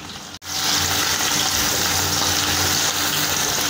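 Chopped onion hits a hot pan of oil with curry leaves, setting off a sudden loud, steady hiss of frying that carries on without a break.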